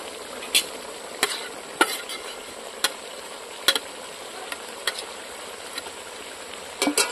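Fried potatoes and chicken curry cook in a pot at an outdoor picnic in a bamboo grove, a faint low sizzle under repeated sharp clicks and scrapes of a spoon stirring against the pot.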